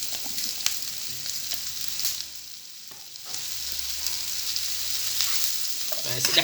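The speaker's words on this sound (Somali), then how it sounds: "waxaan ku darsanayaa baradhadii hadaaya aan shiilay" Pre-fried potatoes go into a hot pan with carrots and are stirred, producing a close, steady sizzle with scraping stir strokes and a brief lull midway.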